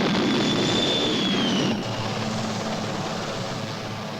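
A Sea King anti-submarine helicopter drones steadily and fairly loud, with a tone that glides downward before the engine noise drops slightly and continues as a sustained whine.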